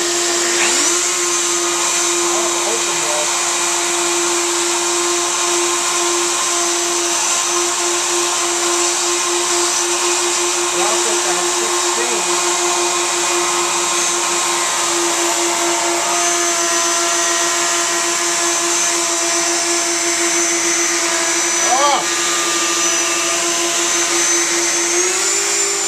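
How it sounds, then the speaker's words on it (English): A router runs alongside a dust collector that blows MDF dust around, giving a loud, steady motor roar with a strong constant whine that holds for the whole stretch, with no talk over it. "the dust collection is blowing MDF, you know, blowing everywhere"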